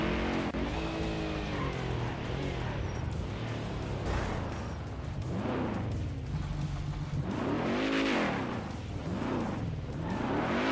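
A car in a GTA roleplay game drives with its engine rising and falling, and its tires squeal and skid through repeated swooping turns, fairly close and loud.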